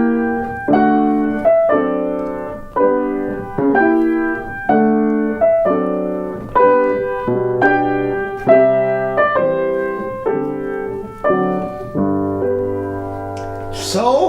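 Solo piano playing a gentle, steady piece from Schumann's Scenes from Childhood, repeated chords with clear inner lines, close and moderately loud, no voices.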